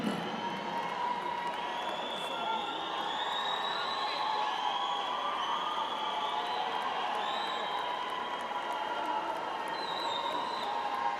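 A crowd at the Permican 2016 Song of the Year awards cheers, whoops and applauds in a dense, steady wash that holds for the whole stretch, with scattered shouts and voices mixed into the noise.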